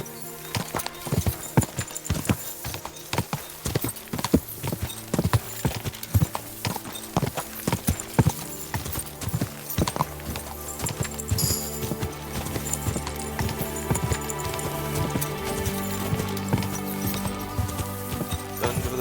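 Horse hooves clip-clop steadily as a rider gallops in Kingdom Come: Deliverance II, a fast, close rhythmic pounding that runs throughout, with a brief whinny and faint clinks of tack.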